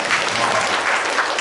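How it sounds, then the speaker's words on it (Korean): Church congregation applauding a women's choir after a hymn, steady dense clapping filling the whole stretch with no voices over it. "우리 박수 한번 쳐주세요."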